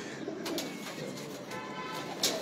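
Pigeons coo softly and repeatedly in a loft, low burbling calls with a few sharper bird chirps and light clicks on top, no voices.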